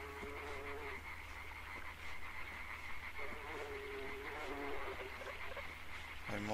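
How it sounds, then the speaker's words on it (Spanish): Frogs croaking in a swamp in the video game Limbo, a steady chorus of repeated croaks over a constant background hum. "Estamos como en un pantano, ¿no? Por las ranas y eso."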